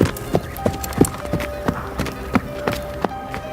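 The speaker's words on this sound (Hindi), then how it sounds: "वो तुरंत उठकर खड़ा हो गया और अपने घोड़े पर बैठकर राजमहल पहुंच गया।" Cartoon horse hooves clip-clop in a steady rhythm of sharp taps, about a dozen clear strikes over a soft tonal background and a faint voice.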